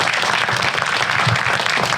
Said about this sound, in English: Please give a round of applause to this group.